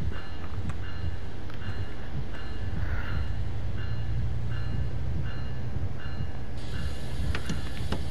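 A Metrolink commuter train in Train Sim World 4 gets moving, with a steady loud low rumble, rhythmic creaks and mechanical clanks repeating at regular intervals, and a brighter rattle joining near the end.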